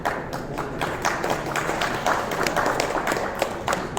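An audience at a Huawei P30 Lite smartphone launch event in Delhi claps steadily, a dense patter of many hands. The applause holds at an even, moderate level throughout, with no one speaking.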